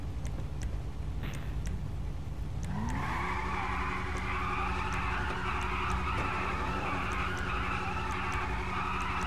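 Game car driving in a lobby, its engine note rising and holding steady after a few seconds with a broad skidding hiss, close and continuous throughout.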